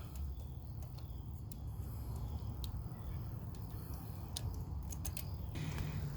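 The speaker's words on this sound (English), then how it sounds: "Looks like that is a 10 millimeter there, so we'll go ahead and get that bolt out." A 10 mm bolt comes out of a Cadillac ATS with a ratchet, giving a run of quick, light metallic clicks in irregular bursts over a steady low hum, fairly close and with no talk.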